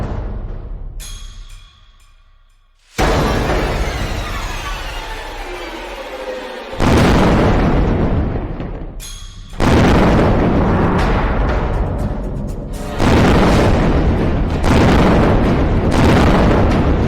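Missile explosions during a Hamas rocket attack on Tel Aviv, Israel, heard as loud, sustained booming blasts and rumbling roars in several long bursts separated by brief pauses.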